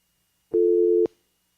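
A single short telephone line tone while calling the 156 public service number, a steady clean beep lasting about half a second, sounding alone in silence.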